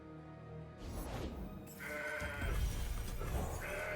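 A synthesized goat bleat sounds in the Legends of Runeterra card game, a wavering cry mixed with crashing, shattering game effects and low rumble, loud and close.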